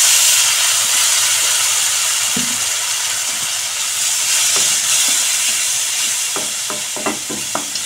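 Water splashed into frying ground chilli, coriander and cumin in a pan for a rohu fish and pumpkin curry gives a steady close hiss of steam, with a few stirring clinks toward the end and no talk.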